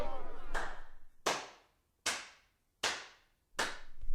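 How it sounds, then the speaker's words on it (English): One audience member claps slowly and deliberately, five sharp separate claps evenly spaced with a lingering reverberant decay after each in a large room, heard alone with no talk. "there's one guy over there who's just clapping"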